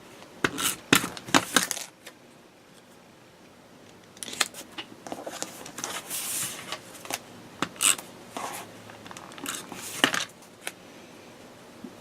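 Tape runner rolling adhesive onto paper hearts for a Valentine card, heard as close clicks and short crackling strokes in a few uneven clusters, crisp and alone.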